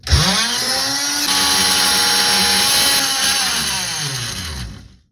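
Power tool cutting a fuel port into the hull of a 1977 Cal 2-25 sailboat from inside a cramped lazarette, a loud steady whine with shifting pitch running continuously for about five seconds before winding down.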